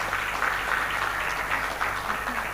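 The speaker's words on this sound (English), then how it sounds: "That applause is very watery." Thin, lukewarm audience applause at a conference on financing sustainable energy and agriculture infrastructure, a steady hissing patter that holds at an even level throughout, with no talking over it.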